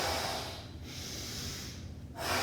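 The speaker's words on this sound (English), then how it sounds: "Take a deep breath" A deep, forceful breath taken during recovery after a high-intensity bodyweight interval, heard as a long, close, breathy rush of air that swells and fades, with no talking.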